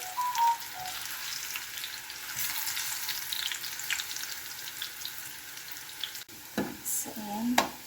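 Cooking oil heats in a pan for chicken estofado, giving a steady close hiss and crackle that runs throughout, with a few brief clinks and bumps near the end.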